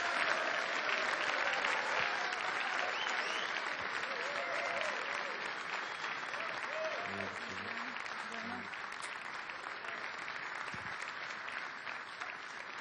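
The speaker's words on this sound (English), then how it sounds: "please put your hands together for our referee" Sustained audience applause at a snooker event in Killarney as the referee is introduced, a dense, steady clapping from a crowd lasting throughout, fairly even in loudness and gradually easing slightly.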